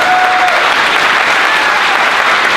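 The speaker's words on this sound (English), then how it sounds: "Please give them a robust round of applause." Loud, dense applause from a large film festival opening-night audience, a continuous wash of clapping with no pauses.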